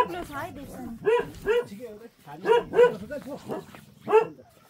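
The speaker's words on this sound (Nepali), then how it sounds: "यहाँ चाहिँ कुकुर कराइरहेको छ" A dog barks and yelps in short bursts, several times over a few seconds, mixed with people talking nearby.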